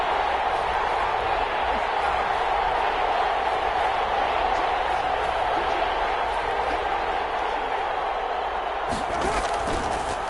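A steady roar of a stadium crowd in a football video game, loud and continuous as the noise builds toward a big third down, with commentary voices talking over it.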